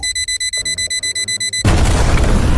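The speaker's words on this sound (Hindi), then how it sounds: "रोबोट कार में रेड अलार्म बजने लगता है।" A robot car's red alarm beeps in rapid regular pulses for about a second and a half, then a loud booming explosion cuts in and roars with a dense rumble to the end.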